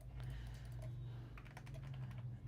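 Computer keyboard and mouse clicking during photo editing, a quick irregular patter of soft key taps over a low steady hum, faint and close by.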